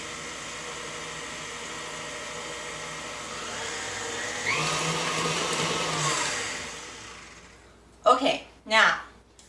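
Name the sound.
mixer mixing gluten-free muffin batter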